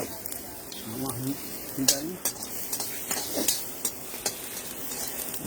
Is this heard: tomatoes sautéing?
yes